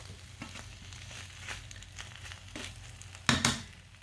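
Food cooks off in a pan with a little tomato sauce, giving a soft steady sizzle with scattered crackles and a louder scraping stir near the end, close and without talk.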